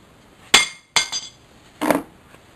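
Three sharp metallic clinks and taps come up close as a seized stainless steel bolt on a water main is knocked out. They are irregularly spaced, the second is doubled, and there is no talk.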